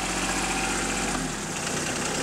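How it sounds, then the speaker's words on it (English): A tractor engine that was powering a homemade wood splitter idles steadily, then is shut off partway through, its low rumble dropping away and leaving a quieter hum. "Let me shut the tractor off."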